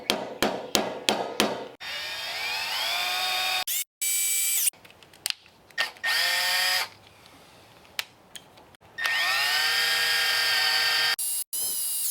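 Power drill boring a hole through a truck shifter part on a Squarebody Dually, with repeated bursts of high whining drilling that speed up and cut out, interrupted by sharp clanks and hammer-like knocks at the start.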